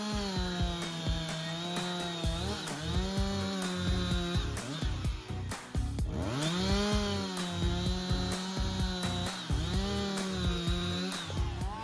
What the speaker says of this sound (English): Continue with the Husqvarna 359 chainsaw, a symphony of power and precision.